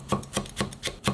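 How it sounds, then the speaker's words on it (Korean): A knife cuts finely through chili peppers on a board in five quick, evenly spaced chops, close and fairly crisp, with no voices. "고추를 곱게 썰어줘야 되는데요"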